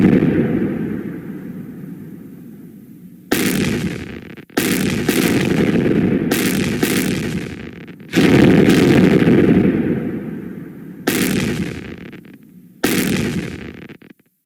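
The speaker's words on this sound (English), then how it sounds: "Explosion warning. There is an explosion happen now." A series of loud, booming explosions in an emergency alert scenario, about six separate blasts each starting sharply and rumbling off over a second or two, spaced irregularly across the stretch with near silence before the first.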